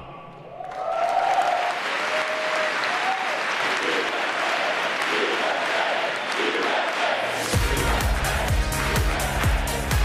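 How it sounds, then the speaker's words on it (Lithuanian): A large crowd breaks into sustained, loud applause with some cheering after Donald Trump is introduced as President, the clapping swelling quickly and holding steady, with a low rumble joining near the end. "Kur plojimų banga"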